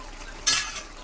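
Meat and Malabar spinach stirred in a pan, giving one brief scraping clatter of a spoon against metal over a faint background sizzle, with a softer knock just after.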